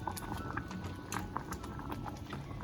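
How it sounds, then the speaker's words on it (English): Thick chocolate cherry preserves with pectin bubble and pop in a pot at a steady rolling boil, close up, with soft irregular spluttering and no talking. "Okay, we are boiling away."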